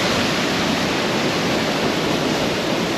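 Waterfall in Norway, a loud, steady broadband roar of falling water, close and continuous with no breaks and no voices.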